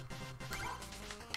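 A dog barks in the video game Shovel Knight, a couple of short yelping barks over quiet game background, with no talking.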